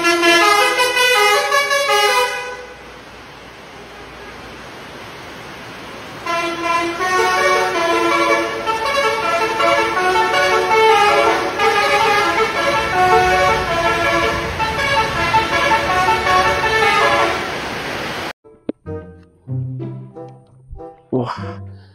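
Tunggal Jaya Blackpink bus passing close with a loud engine roar, then a long sustained musical horn melody played over the traffic, followed by a few short horn blasts as it moves away.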